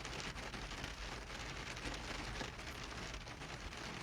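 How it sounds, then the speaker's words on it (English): Rain pours down in a steady, dense patter on surfaces, an even hiss with no breaks and no voices, fairly faint throughout. "the rain's coming down"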